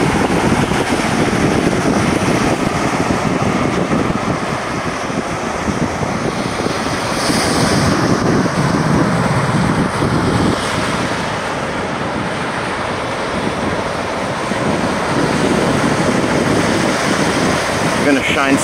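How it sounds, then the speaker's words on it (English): Ocean waves roll in on a beach at Saint Simons Island, making a steady, loud surf rush with heavy wind buffeting the microphone and swells rising and falling over a continuous roar. "Shine some light on the waves so you can see them as they're coming in."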